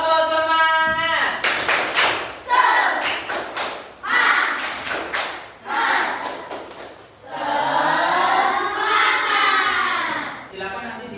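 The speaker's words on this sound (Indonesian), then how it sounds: "Tepuk semangat." A classroom of children performs a rhythmic spirit clap, with bursts of hand claps and thumps mixed with loud group chanting and children's voices throughout.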